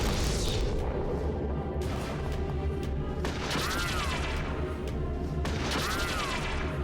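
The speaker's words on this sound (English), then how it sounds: "I like that ricochet noise" Gunfire in Eternal Darkness with bullets ricocheting off a target: dense, loud shots and booms fill the scene, and twice a high whining ricochet sweeps through the barrage.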